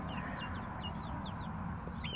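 Backyard chickens cluck softly at a distance, short scattered calls over a steady rushing outdoor background noise.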